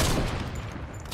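Dense burst of rapid video game gunfire from a duo battle-royale match, loud and continuous with overlapping shots for about a second, no voices.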